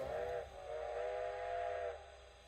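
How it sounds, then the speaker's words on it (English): Steam whistle of a 4-4-0 locomotive in Train Sim Classic, two fairly faint sustained blasts with a short gap between them and a reverberant echo trailing after. "Let's hear that whistle again."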